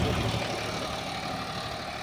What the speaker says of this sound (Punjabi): ਸਲਿੱਪ ਮਾਰ ਰਿਹਾ ਟਰੈਕਟਰ